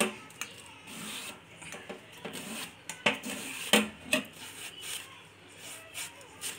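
Banana is sliced into chips on a handheld chips cutter grater, giving irregular scraping and rasping strokes with small clinks, fairly faint and close, the strokes coming in uneven bursts with no voice over them.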